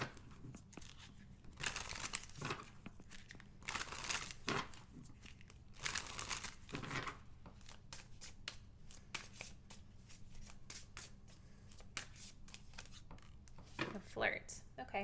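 Tarot cards riffled and shuffled by hand in repeated bursts of crisp, papery flutter, with pauses between and a single card pulled near the end; close and fairly loud, with talking at times.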